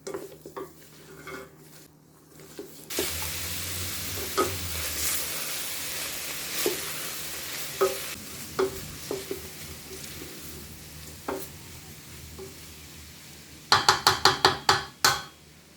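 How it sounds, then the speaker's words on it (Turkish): Steady sizzling of chopped green beans sautéing in a pan, broken by occasional clinks of a utensil and a burst of sharp scraping knocks near the end. "ince ince doğradığım taze fasulye ilave ediyorum. 10 dakika kadar kavuruyorum."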